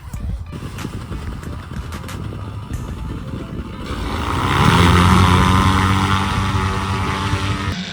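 Paramotor engine warming up before a climb: light clattering and handling noise first, then the small propeller engine swells into a loud, steady droning buzz that holds close and continuous.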